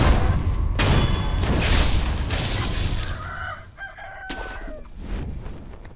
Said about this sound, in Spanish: No me esperaba ese gallo ahí